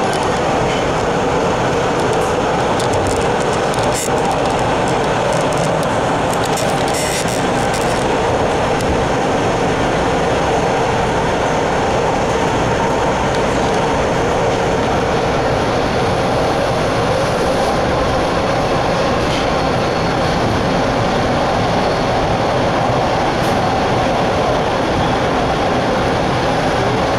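A Toronto TTC Line 2 subway train rolls eastbound from Yonge toward Kennedy, heard from inside as a loud, steady rumble and roar with rattling, clicking wheel noise throughout and no one talking.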